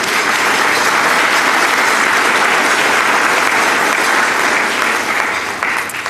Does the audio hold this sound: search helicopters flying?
no